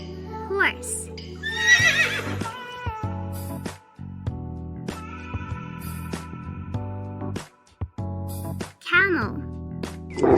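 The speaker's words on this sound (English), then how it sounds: "Horse." A horse neighs in a children's animal-sounds lesson, shrill whinnies standing out near the start and end over a bed of background music.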